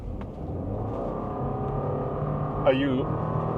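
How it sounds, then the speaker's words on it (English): A ten-year-old Subaru's engine rises steadily in pitch as it accelerates at full throttle, heard from inside the cabin, with a brief voice near the end. "Here's acceleration."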